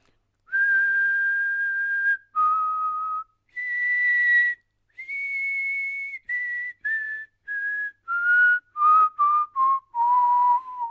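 A person whistles a slow, wavering tune of clear sustained notes, then quicker short phrases that step downward in pitch, with no talking.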